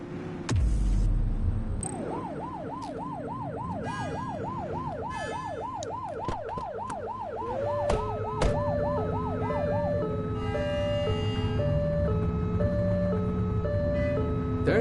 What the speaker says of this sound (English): Turn that siren off. We don't need it on right now.